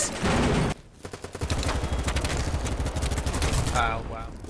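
Sustained rapid gunfire in Battlefield 3, a dense near-continuous rattle of automatic fire with a heavy blast early on, loud and close, with voices shouting faintly underneath.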